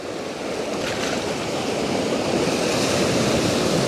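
Small waves wash in and out on a receding tide in a continuous soft rush of surf, steady and fairly loud, with some wind noise.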